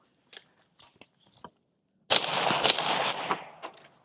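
A single loud rifle shot from a 13.9-inch barrel rifle at an outdoor range cracks after a few faint handling clicks, followed by a long rolling echo downrange that fades out.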